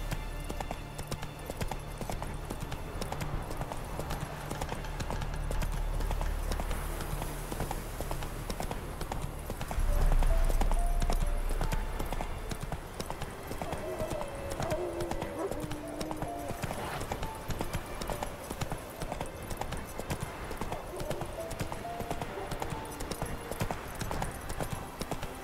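Roach the horse galloping in The Witcher 3, steady rhythmic hoof clip-clops with an occasional whinny over continuous ambient game sound, with faint talk in places.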